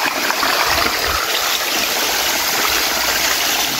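Water from a waterfall hidden above a railway tunnel and a stream rushes steadily and loudly, a continuous broadband roar with no pauses.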